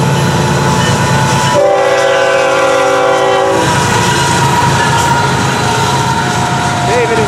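FEC freight train horn sounding loud and close in a single sustained blast, over the steady rumble and clatter of passing rail cars, with radio chatter and voices throughout.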